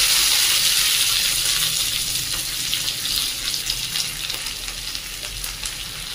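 Onion and curry leaves sizzle in hot oil in a pan, a loud, bright, continuous crackle and hiss close by that eases slightly over the seconds, with no talking.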